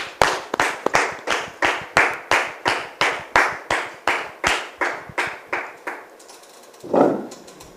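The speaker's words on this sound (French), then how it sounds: "Merci de recevoir notre frère Didier sous vos applaudissements" An audience in a Christian drama gives a guest a welcoming round of applause: steady, rhythmic group clapping in even beats at a brisk tempo, fairly close and loud, fading out near the end.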